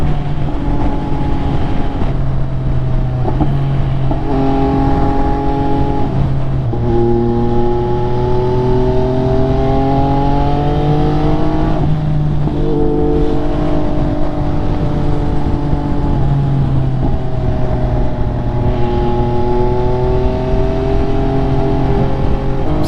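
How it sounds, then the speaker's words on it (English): Riding an MV Agusta F3 sport motorcycle through Saturday road traffic, the bike's loud, close engine drones steadily with rising and falling tones as it shifts and accelerates, overwhelming any other vehicles, with no voices. "I'm surprised there's this much traffic out on a Saturday."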